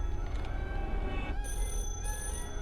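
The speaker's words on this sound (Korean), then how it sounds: "일단 전화기를 좀 받자" A telephone rings in a video game with faint, steady electronic bell tones repeating over a loud, rumbling ambient drone, with no talk over it.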